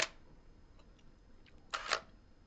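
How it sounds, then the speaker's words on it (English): Canon EOS 1D Mark III shutter release with mirror movement: a sharp click at the start, then a louder double mechanical clack of mirror and shutter about two seconds later, close and alone in a quiet room. "The mirror goes up when I actually release the shutter."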